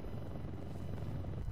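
Helicopter rotor din from the game Mortal Kombat X, a dense continuous low rumble and wash with no break, moderately loud and heard alone.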